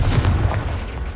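A Confringo blasting spell detonates in Hogwarts Legacy, a single heavy booming explosion with a deep low rumble that fades quickly over about a second.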